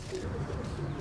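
Salonika tumbler pigeons cooing in a loft in Buca, İzmir, soft low throaty coos repeating close by in a brief burst.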